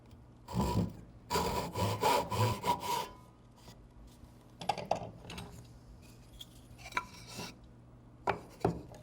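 A hand saw makes a stop cut in wood for a mortise and tenon joint with a run of quiet, rasping back-and-forth strokes, followed by sparse light taps and scrapes.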